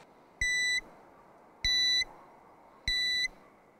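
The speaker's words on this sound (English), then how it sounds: "So it goes on your lowest layer and it gives off beeps." An avalanche beacon emits three evenly spaced high electronic beeps, each lasting about a third of a second, clear and close against a quiet background.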